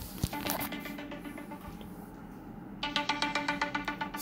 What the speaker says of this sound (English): Why is my phone ringing?